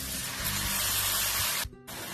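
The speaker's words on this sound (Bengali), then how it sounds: "খুব সামান্য জল দিচ্ছি" Water is splashed into a hot pan of frying spices for a home-style Bengali dish, giving a loud, steady broadband hiss and sizzle that cuts off abruptly near the end and then resumes more softly.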